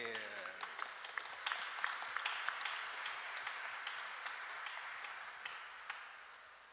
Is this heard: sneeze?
no